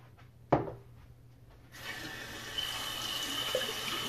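Water runs and splashes at a sink while a face is wetted. A sharp knock comes early, then a steady, close rush of running water fills the rest.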